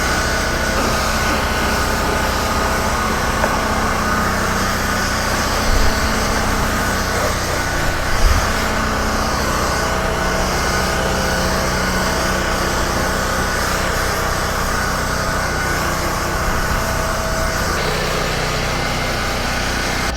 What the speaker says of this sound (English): we'll pressure wash all that surface grime off